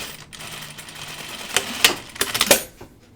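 A home sewing machine runs in short, close bursts of rapid mechanical stitching after a quiet start, stopping and starting several times.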